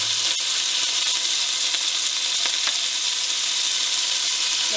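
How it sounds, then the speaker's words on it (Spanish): Meat for a Peruvian stewed cauliflower dish sizzles steadily in a hot pan, a loud, continuous hiss of frying with a few faint clicks and stirring taps, no voices. "No, voy a primero cocinar la carne."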